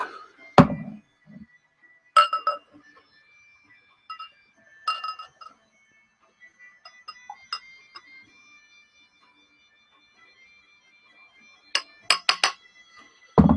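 A Nonic pint glass clinks and knocks with sharp, bright taps, a few isolated strikes spread out and then a quick cluster near the end, close and clear in an otherwise quiet room, beer being handled.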